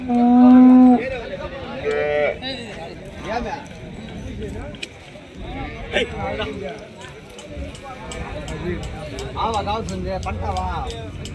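Punganur cows at a dairy farm give a loud, drawn-out moo up close, followed by scattered shorter lows, hoof clatter and animal movement, with people talking throughout.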